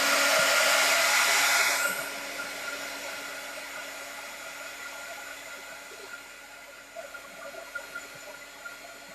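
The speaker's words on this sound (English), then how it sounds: "And then I'm going to hit it with the heat gun." A heat gun blows loudly on a painted floral craft piece, then drops to a lower, steady whoosh after about two seconds and keeps running evenly, with faint tapping near the end.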